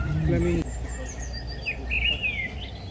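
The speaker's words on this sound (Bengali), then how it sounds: "পাখি" A brief voice gives way to high, thin chirps and whistled calls of Amazon rainforest birds at the Iguazu Falls bird park in Brazil, scattered over a low background hum.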